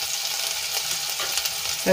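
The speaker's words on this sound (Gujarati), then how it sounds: "સરસ રીતે આપણે એને મિક્સ કરી લઈશું અને મિક્સ કરીને આપણે અડધી મિનિટ માટે સાંતળી લઈશું" Ginger, garlic and chili paste with curry leaves sizzles steadily in hot oil, a close, constant hiss with faint stirring scrapes and no talk.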